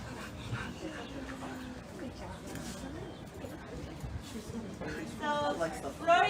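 A young puppy being cared for for a guide-dog school whimpers and yips amid a bustling spring graduation gathering, with a steady murmur of voices throughout and a few higher whines near the end.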